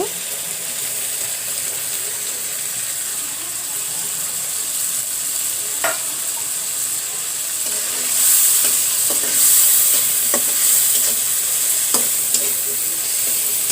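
Garlic and shrimp fry in a pan with a continuous bright hiss, scattered scraping and stirring clicks, and a swell of louder sizzling midway.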